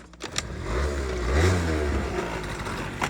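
A Honda Dio AF-34 carburetor scooter engine runs nearby, its idle set too low so it tends to stall; it swells into a rough, steady putter for a couple of seconds, then sags back.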